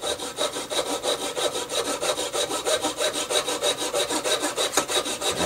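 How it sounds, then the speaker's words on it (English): A hand saw cuts through guitar wood in quick, even back-and-forth strokes, a close rhythmic rasp repeating steadily with no talking. "You just let the saw glide and basically let the weight of the saw do the cutting."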